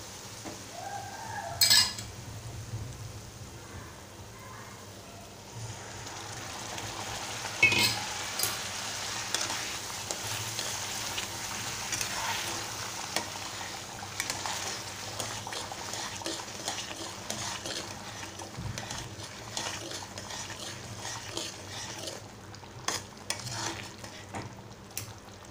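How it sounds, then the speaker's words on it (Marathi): Milk added little by little to semolina shira for Satyanarayan prasad while it is stirred, giving a continuous soft sizzle and scraping in the pan, close and fairly quiet, with a couple of sharper knocks. "थोडं थोडं करून दूध घालायचं आहे"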